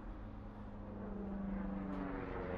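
An airplane drones overhead in the video game Firewatch during a storm, a faint, low, steady engine hum that swells slightly as it passes.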